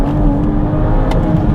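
A 2022 Toyota Supra 3.0L in sport mode accelerates hard, its engine note loud and continuous from inside the cabin, a steady strong roar with brief shifts and no talk over it.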